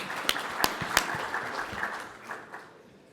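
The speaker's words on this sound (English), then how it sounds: "Round of applause before we start" Conference audience clapping before a presentation begins: a few sharp, close claps stand out over a thin spread of quieter applause that fades within about three seconds.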